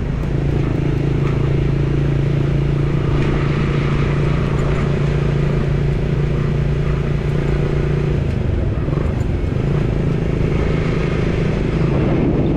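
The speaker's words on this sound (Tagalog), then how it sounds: "Daming motor doon no." Steady traffic drone of many motorcycles and cars passing on a road near the CCLEX bridge in Cordova, Cebu, a continuous rumble with no break across the whole stretch.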